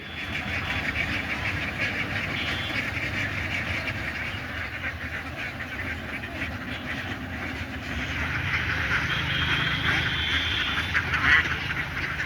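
A flock of around eighteen thousand ducks on a farm in Chuadanga, Bangladesh, quacks as one dense, continuous chorus that grows slightly louder toward the end.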